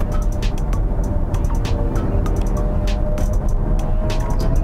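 A steady synthetic virtual engine hum from a Genesis GV60 Performance electric car drones inside the moving car, layered over road rumble, with faint clicks scattered through it.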